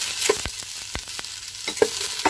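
Tender okra frying in hot oil in a pan for Kannada-style bendekayi saaru, with a soft steady sizzle broken by several sharp clacks of a spoon stirring against the pan.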